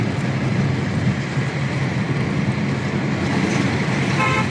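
Dense road traffic rumbles continuously and loudly nearby, with vehicles passing in a steady wash of engine and tyre noise and a brief faint horn toot near the end.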